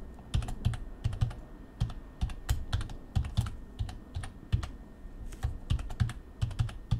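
Computer keyboard keys being tapped out in short irregular bursts while a new password is entered, close and clear with brief pauses between clusters of keystrokes and no talking.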